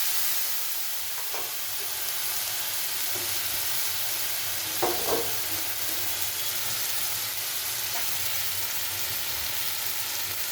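Soaked cumin and turmeric go into a spice masala sizzling in a pan for a Bengali potol korma, a constant hiss of frying with a few brief scraping and splashing bursts midway.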